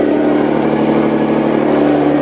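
Nissan GT-R R35 with Armytrix decat straight-pipe exhaust running with the valves open, a loud, steady, droning engine note close by with no talking.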